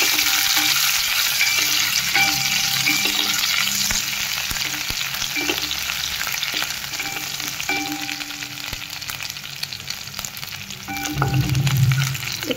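Garlic and green chilies frying in hot oil, a continuous close sizzle with occasional spatula scrapes and taps against the pan, swelling louder near the end.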